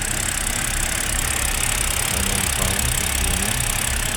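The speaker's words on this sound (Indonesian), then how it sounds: "Mesin sudah hidup." A BMW F10 523i's engine idling after an ECU data clone, a steady close-up mechanical hum with an even fine pulse and no voices over it.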